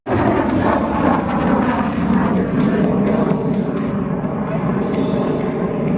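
A MiG-17F jet flying at an air show, its engine a continuous loud roar with a broad rumble that holds steady and close throughout, with no talk over it.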